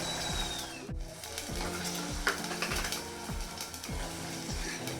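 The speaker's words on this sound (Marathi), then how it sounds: "तर मसाला 1-2 मिनटं छान परतून घ्यायचा आहे" Masala spices sizzle in a pan while a spatula scrapes in a steady, repeating stirring rhythm, quiet and close, with no voices.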